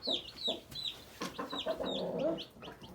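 Chickens in a coop with newly hatched chicks, giving repeated short clucks and higher chirps in a busy, irregular stream at close range, with no talking.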